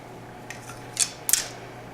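Gasket material being cut by hand for 2017 Sparky Myrl 4-inch lift cups, heard as a couple of quick, faint snips close by with no talking.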